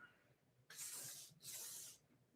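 Two short bursts of aerosol spray hiss close by onto a tire, separated by a brief pause, with no talking.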